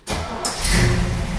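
A 1932 Ford coupe from American Graffiti cranks and fires up, a quick whirring start catching into a loud, rumbling engine roar close by, with no voices over it.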